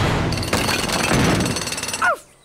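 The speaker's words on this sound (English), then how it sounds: "Oh, jackhammer." A cartoon jackhammer pounds away in rapid, loud bursts for about two seconds while the characters clear boulders from a door during a rescue, then cuts off abruptly into near silence.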